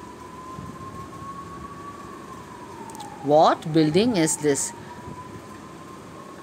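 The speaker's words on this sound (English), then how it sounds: "now also one bell sound is there, that is ambulance sound." An ambulance siren holds a faint, steady, slowly wavering wail throughout, with a person briefly speaking over it midway.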